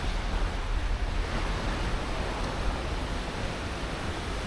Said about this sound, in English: You can even hear the ocean crashing.